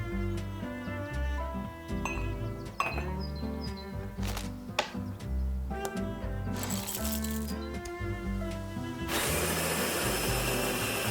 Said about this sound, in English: it's got a grinder built in.